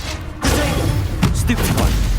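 Spell blasts from Incendio and Confringo in Hogwarts Legacy, a loud burst of impacts and booms starting after a short quiet, with several sharp hits layered over dense game noise.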